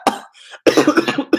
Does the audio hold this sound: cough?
yes